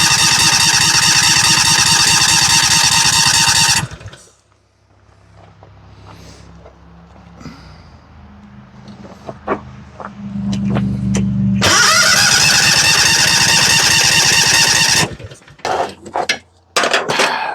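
A John Deere tractor engine cranking over to test a fuel pump: loud, rapid rhythmic starter churning for about four seconds, a quieter stretch with scattered clunks, then two more long loud cranking runs.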